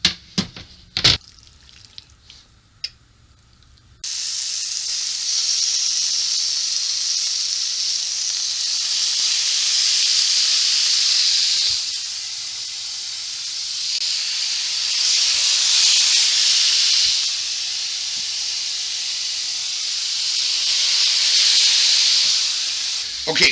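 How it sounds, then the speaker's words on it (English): Pre-cut steak tips sizzling in a hot frying pan, a loud steady hiss that starts abruptly after a few clatters and keeps going, swelling and easing slightly as it continues. "you're going to take your pre-cut steak tips like so, and you're going to add them onto the heat source"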